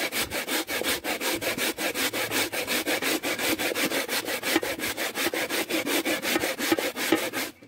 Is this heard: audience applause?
no